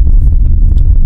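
Steady low tire rumble from a BYD Sealion 6 EV, a 2025 electric SUV, rolling along in Eco drive mode with no engine sound, a continuous close road roar with light bumps.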